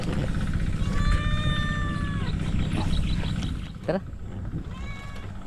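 A cat meows in a rising, drawn-out cry, then a shorter meow follows after a brief gap. The cat sounds fairly close, over steady background noise, and a person speaks briefly.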